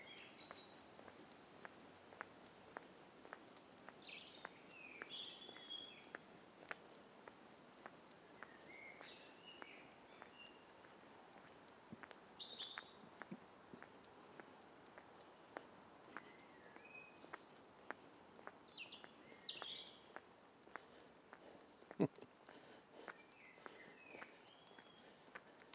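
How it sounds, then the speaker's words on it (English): Faint birdsong drifts in from a distance in short scattered phrases, with quiet ticking and rustling sounds in a calm outdoor setting in the Lake District. "Just listen to that bird song while I shut up for a minute."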